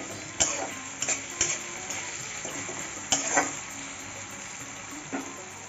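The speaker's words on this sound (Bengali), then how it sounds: "টমেটোটা দিয়ে একটু ভেজে নেব যাতে কাঁচা গন্ধটা চলে যাবে।" Chopped tomato frying with onion in a pan on a home stove, a steady close sizzle broken by a few sharp clicks and knocks from stirring, with no talking.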